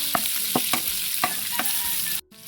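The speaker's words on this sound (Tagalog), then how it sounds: "Bigisa na tayo." Chicken being sautéed in a pan for a Filipino bistek-style dish, with a steady sizzle broken by about five sharp scraping stir strokes, close and fairly loud, before a brief drop near the end.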